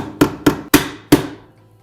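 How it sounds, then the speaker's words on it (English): A hammer taps a 1/2-inch socket to seat a washer's direct drive motor coupler, giving four loud, close, sharp knocks in an uneven rhythm, each ringing briefly before fading. "and just tap it with our hammer"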